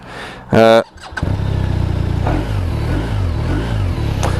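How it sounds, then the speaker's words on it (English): A 2019 BMW R1250 RT motorcycle cranks briefly with a whirring starter, then its engine catches and runs at a steady, close idle with small fluctuations in pitch. "so to fire up the BMW, I've got the key fob in my pocket, and as you can see on the dash there you go, fired up"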